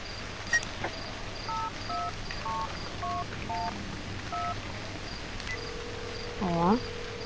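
Phone keypad tones in the horror video game Cry of Fear as a number is dialed, a series of short separate beeps over a quiet background of crickets, ending with a rising warbling tone.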